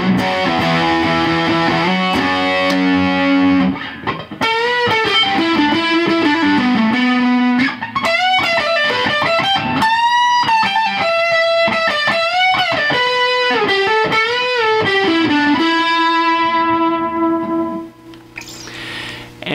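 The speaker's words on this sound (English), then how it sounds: "Let's throw on a little distortion just for fun on this old beast of mine." An old electric guitar played through a distortion pedal, a run of sustained, gritty chords and bent notes that rings out loud before trailing off at the end.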